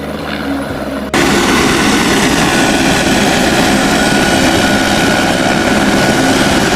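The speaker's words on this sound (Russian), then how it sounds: "Садится вертолет." A helicopter comes down to land in a snowy forest. After about a second of quiet it breaks in as a loud, close, steady rotor and engine roar that runs unbroken to the end.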